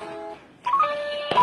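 Telephone dialing tones on a phone call: a short sequence of electronic tone beeps, one steady pair, then several rapid pitched blips, close and clear with no talking.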